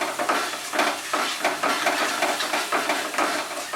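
Spice masala with salt and sugar stir-fried in oil, a steady close sizzle broken by rhythmic spoon strokes scraping the pan, with no voices.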